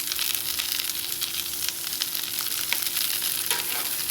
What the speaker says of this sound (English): What you do with the bread is put a little bit of butter. Toast the bread on